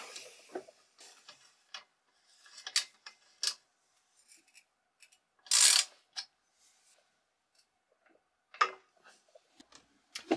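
A ratchet wrench tightens a bolt on a full suspension bike frame, giving sparse bursts of quick clicking ticks with quiet gaps between them, close and fairly faint, plus one louder rasping burst in the middle.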